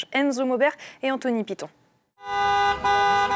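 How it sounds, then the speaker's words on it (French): Taxi horns honking at a drivers' protest over fuel prices, several sustained overlapping blasts following a spoken voice, fairly close and loud. "Des coups de klaxon comme un appel à l'aide."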